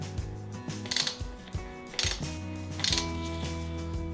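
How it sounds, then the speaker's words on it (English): Torque nut driver with built-in torque limiter tightening a clamp on a pipe coupler, producing close, rhythmic ratcheting clicks in several short bursts with grinding turns between them. "we're gonna tighten it on, and this nut driver that we're using, as I mentioned earlier, is a specific nut driver"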